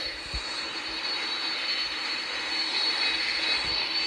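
An airplane engine in the Roblox video game drones steadily, a continuous loud hissing roar with a high whine that holds constant throughout with no talk.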